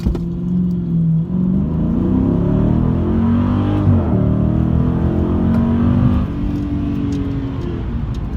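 A 2019 Dodge Challenger Scat Pack accelerates hard from a stop on a street run, its V8 roaring loudly up through the gears with brief dips at each shift and no talk.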